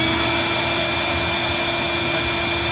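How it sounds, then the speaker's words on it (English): A shop vacuum cleaner runs steadily and loudly in a garage during walnut blasting of the intake valves on a 2015 Honda Fit GK, a constant whine with a strong hum and no pauses, with no talking. "Turn on my vacuum cleaner,"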